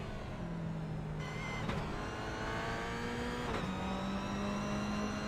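A GR86 race car in a racing video game brakes hard into a hairpin left, its engine note rising and falling through steady tonal revs, close and continuous with no talk over it.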